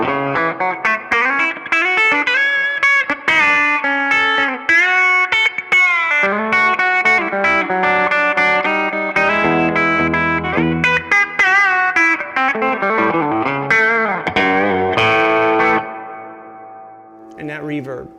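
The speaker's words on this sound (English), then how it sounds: "That reverb is somehow rich and swimmy" An electric guitar rings out through overdrive with a lush, washy reverb, playing a continuous melodic line whose last notes trail off into a shimmering tail.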